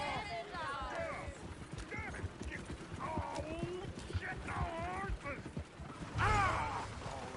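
Rhythmic clip-clop of horse hooves in the video game Red Dead Redemption 2, with creaking tack and an occasional whinny, running steadily under lively talk between several voices.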